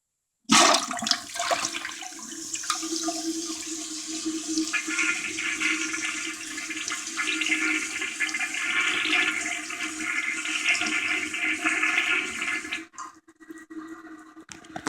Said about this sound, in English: This will be interesting because there's no water in the bowl, so you'll get to see how much water the jet actually puts out.